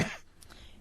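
A single short, close cough that fades quickly into quiet.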